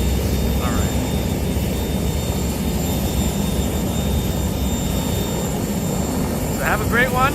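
Helicopters over New York City make a steady, loud rotor and engine drone mixed with street noise on a chilly commute, with brief voices near the end.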